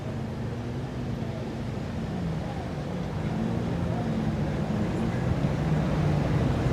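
Motorboats run through a no-wake zone at Crab Island, their engines a continuous low rumble that swells slightly toward the end, mixed with wind noise and soft water wash in the background.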